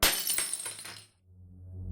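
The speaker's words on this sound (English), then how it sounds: "My train of thought was interrupted by the sound of breaking glass." Glass breaks and shatters in a loud crash lasting about a second, followed by a faint low hum as the fragments settle; no voices.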